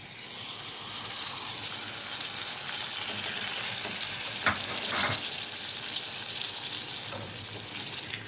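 Tomato sauce hits a hot pan and sizzles steadily, a dense frying hiss with a few brief spatters and stirring scrapes partway through.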